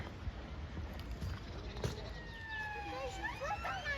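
A distant ambulance siren wails faintly in the second half, rising and falling over steady road rumble and wind noise, during flooding in Evesham, Worcestershire.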